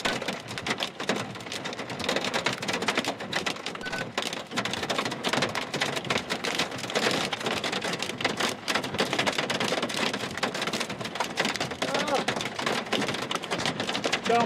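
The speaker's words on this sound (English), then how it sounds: "Oh, we're getting a little bit of hail now." Hail and heavy rain drum on a car, a dense, loud, continuous patter of hits close by with sharp ticks mixed in throughout.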